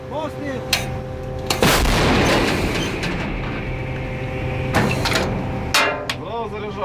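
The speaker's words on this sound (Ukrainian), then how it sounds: "Гармата!" A Bogdana 155 mm self-propelled howitzer fires a NATO-calibre round with a caseless powder charge, one loud, close blast followed by a long rumbling decay over an engine hum, with voices nearby.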